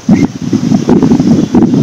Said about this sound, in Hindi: आप देख रहे हो कितनी अच्छी हवा चल रही है